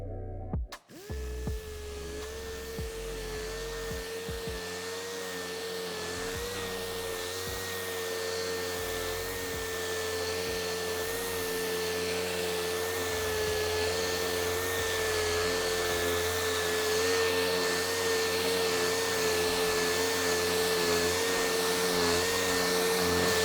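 Power sander running steadily on an epoxy board with 180 grit paper, a continuous whining drone that starts abruptly and holds near and loud throughout with no talking.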